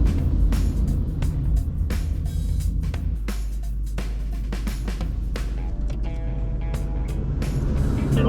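A truck on a rural road near the Nunniong Plains, heard as steady vehicle rumble and road noise that holds loud for the whole stretch, with brief clicks and knocks on top and no talking.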